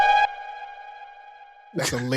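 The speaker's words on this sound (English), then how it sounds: "That's a delayed siren" A siren sounds as a sustained, steady tone with a bright harmonic stack, held for over a second between bursts of conversation on either side.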